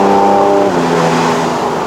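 A 2015 Porsche 911 GT3 RS with a seven-speed dual-clutch gearbox revs hard on a mountain run in Malaysia, its loud, close engine note holding steady and then dropping in pitch as it shifts.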